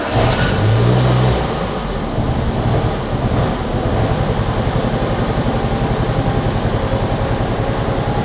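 A Mk7 Ford Fiesta 1.25 engine in neutral idles roughly on its own with faulty revs, a steady low uneven rumble with some wind noise over the microphone.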